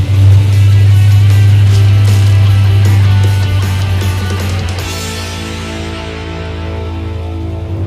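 A 4x4 Jeep with a hot-rod build drives along in fourth gear, its engine humming steadily and loud up close as a strong low drone that eases slightly after a few seconds, with no talking over it.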